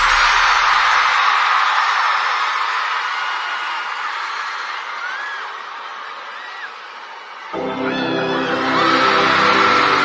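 A festival crowd of tens of thousands cheering and whooping as a song from K-Pop Demon Hunters begins, a broad roar that dips and then swells as the music's intro enters.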